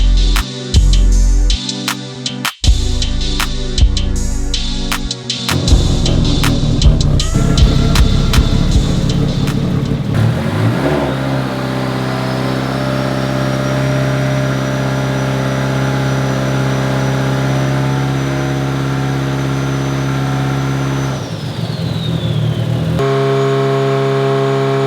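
A built Nissan SR20 engine in a car pulled at full throttle on a dyno, loud and close, rising through a sustained high-revving howl with a whining tone, then dropping back off throttle.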